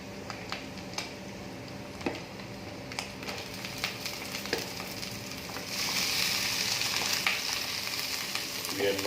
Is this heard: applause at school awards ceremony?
no